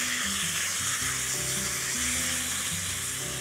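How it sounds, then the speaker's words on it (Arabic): Onions sauté in a hot pan with meat for an okra dish, giving a steady, close, continuous sizzle with occasional stirring scrapes underneath. "البصل هاخده تشويحه"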